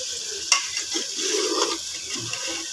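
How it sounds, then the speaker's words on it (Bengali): Potatoes, onions and papaya stirred gently in a hot pan, a short soft scrape and light sizzle over a steady hiss. "আলু আর পেঁয়াজ দিয়ে দিলাম, দিলাম পেঁপে, এখানে একটু হালকা লাড়া দিই"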